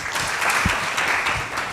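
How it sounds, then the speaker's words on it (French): An audience at a café talk event applauds a guest being welcomed on stage. It is a short, steady burst of moderate clapping from a room of people. "applaudissements pour lui"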